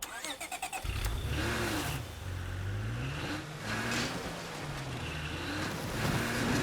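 A car in a zombie survival video game starts up and drives off, its mid-pitched engine humming and revving loudly and continuously, rising and falling as it accelerates.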